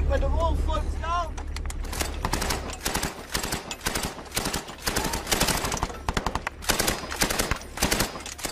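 Rapid automatic gunfire and single shots crack out in bursts during a military firefight in Afghanistan against Taliban positions in buildings near a wooded area, loud and close, with shouted voices underneath.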